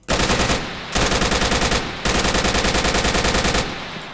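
Rapid bursts of automatic assault rifle fire in the video game Arma III, loud and close, in three long sustained volleys separated by short pauses.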